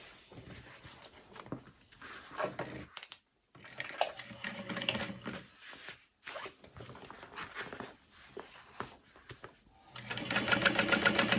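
Sewing machine top stitching either side of a seam on a cross-body sling bag, in quiet, uneven bursts of stitching with brief stops and a louder stretch at the end, close up.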